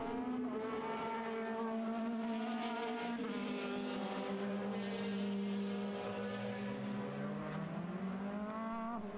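Formula BOSS race cars lap the Mondello circuit in Ireland with loud, sustained engine whines that rise and fall through gear changes, two cars close together near the microphone.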